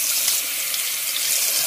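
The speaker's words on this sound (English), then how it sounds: "that faucet works as expected." Water runs in a steady hiss from a newly installed RV bathroom faucet, close and continuous for the brief moment, with no talk.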